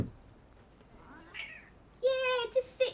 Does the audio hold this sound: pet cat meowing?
yes